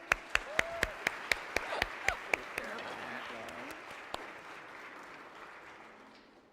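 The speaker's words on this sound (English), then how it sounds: "could we have a round of applause for our board members who brought WECode to life?" Conference audience applauding board members at an opening keynote, starting with a few loud separate claps near the front, then a softer broad ovation that gradually fades out.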